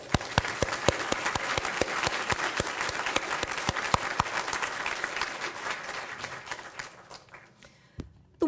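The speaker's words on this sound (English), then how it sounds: "So I'd like us all to give a round of applause to Griff and Pat for all that they've done" Lecture audience applause at a university event in Seattle, a moderate crowd clapping steadily with distinct sharp claps, gradually thinning and fading out toward the end.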